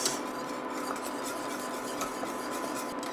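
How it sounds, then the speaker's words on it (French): A spoon stirs a brown sauce thickening in a pot, a steady soft scraping and rubbing against the metal that continues without pause. "On remue bien pour pas que ça fasse euh, des petits grumeaux blancs"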